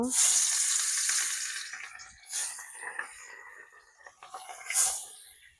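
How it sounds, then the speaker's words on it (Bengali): Pieces of katla fish hit hot oil in a wok with a loud, bright sizzle that slowly fades. Fresh bursts of spitting follow as more pieces go in, close by. "কড়াইয়ের তেল ভালোভাবে গরম হয়ে গেছে আমি আর মাছ দিয়ে দেব"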